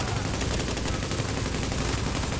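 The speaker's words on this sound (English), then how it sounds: "Shotgun is incoming." Rapid, dense gunfire from a firefight in The Division runs continuously and loudly at close range for a couple of seconds, with no pauses and no voices.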